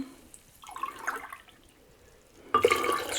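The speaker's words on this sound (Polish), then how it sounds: "cztery szklanki wody. To ja już tutaj naleję." Water poured from a container for homemade oat milk, a short, faint trickle early on, then a louder, fuller splashing pour for the last stretch.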